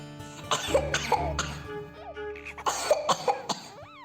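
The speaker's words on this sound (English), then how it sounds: "Then the poor woman began coughing" A woman coughs in several harsh bursts, close and loud, with a short pause before a final round of coughing.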